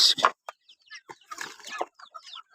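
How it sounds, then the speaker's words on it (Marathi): Heavy fighter roosters of about 5 to 6 kilograms clucking and calling in short, close bursts separated by brief pauses. "एवढे मोठे फायटर म्हणजे ते कोंबडा जवळपास 5 ते 6 किलोचा कोंबडा आहे"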